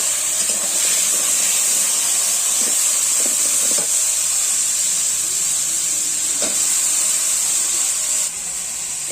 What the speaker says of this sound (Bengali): এবারে কেটে রাখা সবজিগুলো দিয়ে দিচ্ছি।